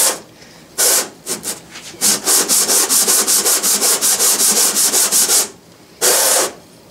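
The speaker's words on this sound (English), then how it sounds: "I've wire brushed this with a hand wire brush for about 2 or 3 minutes, cleaned it off again, and this is 80 grit abrasive." Hand sanding a rusty Logan lathe part with 80 grit abrasive: loud, close rasping strokes, first a few separate swipes, then a quick regular run of back-and-forth rubs, a pause, and one more long stroke.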